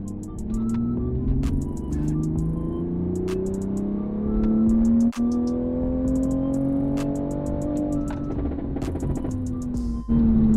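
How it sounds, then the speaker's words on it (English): A tuned Toyota GR Supra running E50 flex fuel pulls hard in fifth gear, its loud engine note climbing steadily and continuously for the whole stretch, close and alone without any talking. "I'm gonna try to do my first pull here in 5th and see how this goes"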